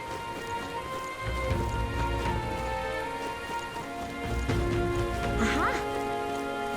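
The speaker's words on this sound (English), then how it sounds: "Rain." Steady rain hisses across the whole stretch beneath tonal game music and ambient sounds in Metaphor: ReFantazio, with a voice speaking briefly.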